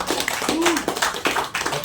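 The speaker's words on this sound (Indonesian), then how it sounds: "Tepuk tangan." Short bursts of hand clapping from a small group at an indoor reconciliation gathering, a few uneven claps mixed with murmuring voices nearby.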